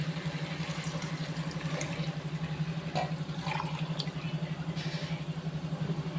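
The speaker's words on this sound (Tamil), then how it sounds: "தேங்காய் பால் வந்து ரெண்டு டம்ளர் ஊற்றுவோம்" Coconut milk pours steadily into a vessel with a soft continuous trickle and a few light splashes, over a low constant hum.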